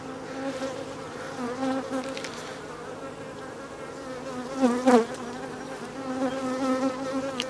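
Honeybees hum around an open hive during a second hive inspection, a close, continuous layered buzz that swells in places as individual bees pass near, with no talking.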